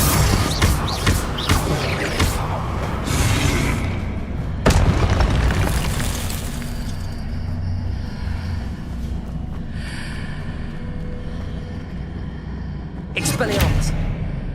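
Explosive Confringo spell blasts in Hogwarts Legacy, heard as deep booms around the middle and near the end, set in a dense, loud layer of game effects and voices that carries on throughout.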